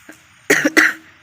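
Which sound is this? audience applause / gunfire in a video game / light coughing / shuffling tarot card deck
light coughing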